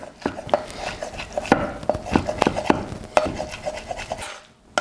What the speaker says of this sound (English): I can just put those straight on the board to chop up